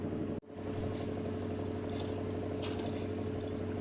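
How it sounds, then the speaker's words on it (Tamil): Chana dal vadai bubble gently in hot oil, a soft continuous frying fizz with a few faint crackles and a short dip near the start, heard close and quiet. "இதை இப்படி வடை போல் தட்டி எண்ணெயில் பொரித்து எடுத்துக்கலாம்."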